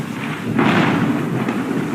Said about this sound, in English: There is a big storm at sea. The sky is black and it is raining. There is a lot of thunder.